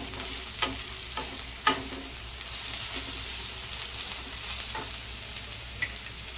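Paneer bhurji being stirred in a hot pan, a steady sizzle punctuated by several distinct spatula scrapes and knocks, close and without talking.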